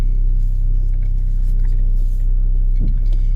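A Saab 9-3 car being driven gently on a warm-up run, its engine a steady low rumble throughout, with a brief rise in engine note near the end; no talking.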